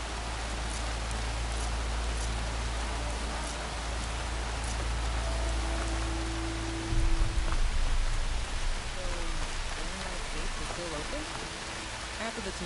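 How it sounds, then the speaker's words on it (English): Steady rain pours in the Horizon Zero Dawn video game, a dense, even hiss of drops that swells louder partway through, with low rumbling underneath and brief voices. "There's the rain."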